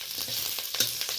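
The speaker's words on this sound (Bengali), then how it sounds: "কড়াইতে অল্প পরিমাণ তেল ছিল, তাতে আমি কয়েক কোয়া রসুন দিয়ে দিলাম, হালকা করে একটু ভেজে নেবো লালচে করে" Garlic cloves sizzling in a little oil in a wok, a steady close frying hiss with faint stirring clicks and no voices.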